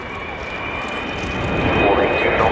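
Roaring jet engines of the Avro Vulcan B2 XH558 sweep low along the runway, a rising, broadband roar that swells louder as the bomber nears; a voice talks over it.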